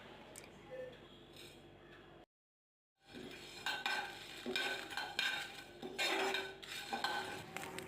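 Whole spices such as black peppercorns, cumin and coriander seeds dry-roasting in a pan, a soft rustling sizzle with utensil scrapes and stirring, briefly cut to silence before resuming more actively, close and fairly quiet.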